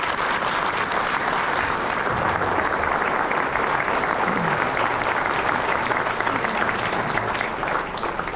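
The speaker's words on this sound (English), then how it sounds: "How about a round of applause for the Veterans Club?" A crowd at a 9/11 commemoration ceremony gives sustained, dense applause for a veterans club, loud and continuous throughout, with some faint voices mixed in.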